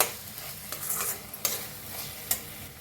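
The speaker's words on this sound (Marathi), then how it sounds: "मिक्स करून छान असं भाजून घेऊया" Masala roasting in oil while being stirred, a close crackling sizzle punctuated by several sharp spoon scrapes against the pan at an irregular pace.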